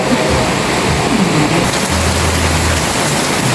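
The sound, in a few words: rain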